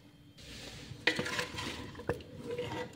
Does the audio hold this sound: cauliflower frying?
yes